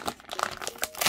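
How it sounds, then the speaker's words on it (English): A secure mailing envelope is torn open by hand, giving a brief burst of crinkling and ripping paper with several sharp close crackles. "I love that these envelopes are so secure, but sometimes they're a little bit difficult to open."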